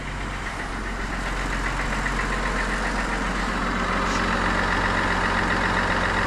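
A repaired vehicle engine, brought in on a tow truck and with about 108 miles noted, idles steadily after starting, giving a loud continuous rumble with a faint knocking texture throughout.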